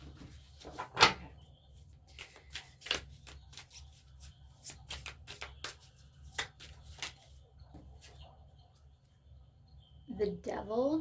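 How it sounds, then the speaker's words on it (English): Tarot cards are shuffled by hand close by, giving soft, quiet riffling and tapping bursts scattered across the stretch with faint room noise between them. "shuffle these"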